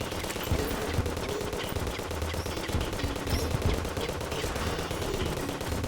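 Rapid automatic gunfire from the game Terraria, a steady dense stream of shots at low volume with no pauses, under a constant background of game sound.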